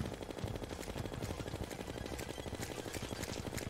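Rapid, evenly spaced shots fired at the Duke Fishron boss in a video game, a dense rattling stream that runs unbroken from start to finish at low volume.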